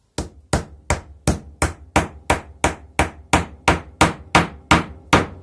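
A hammer drives a copper insert onto an epoxy-coated handle made from an old drill bit, striking about fourteen sharp, evenly spaced blows at close range with no talk.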